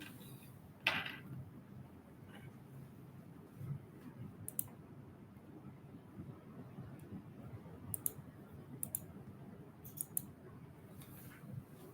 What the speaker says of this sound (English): I will use the keyboard.